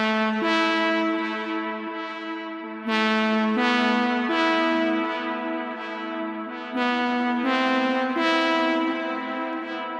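Lead synthesizer from a Serum preset in a deep house track, playing a melody: bright, harmonically rich sustained notes in phrases, loud and alone with no talking.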